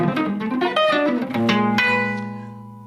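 Jazz guitar playing a strange-colored flat 9 chord, notes picked in quick succession and then left to ring out and fade, heard alone without talking.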